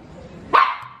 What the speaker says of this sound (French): Parce qu'elle m'aboie. Tu m'aboies.